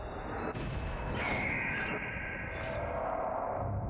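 Enemy gunfire in the first-person shooter Apocryph, a few sharp booming shots followed by whooshing, ringing tails over a dense game background, moderately loud.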